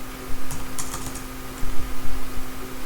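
Data being typed into an Excel spreadsheet on a computer keyboard, with irregular soft key taps and small bursts of clicks over a steady background hum.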